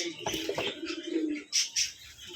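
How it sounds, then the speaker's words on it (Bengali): Pigeons cooing close by at a pigeon farm, a couple of soft throaty coos followed by short higher chirps. "এখানে আরো এক জায়গা কবুতর আছে"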